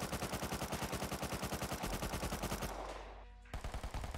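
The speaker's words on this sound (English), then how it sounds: "So this is the old MP5." Old MP5 submachine gun in Rust firing a rapid, steady automatic burst of evenly spaced shots that stops partway, then a brief pause before a short final burst.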